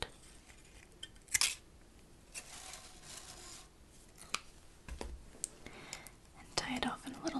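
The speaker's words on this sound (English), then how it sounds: "And then we'll snip this end." Scissors snip the end of a wound thread on a small DIY project, a few crisp close snips set against soft whispered talk and faint handling rustles in a quiet room.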